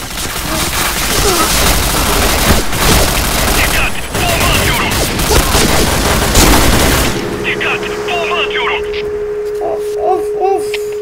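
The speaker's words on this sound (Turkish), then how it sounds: "Dikkat bomba atıyorum." Gunfire and explosive blasts from a grenade attack in the online shooter PointBlank, loud and dense for about seven seconds, then cutting to quieter game sounds with a steady tone and brief bursts.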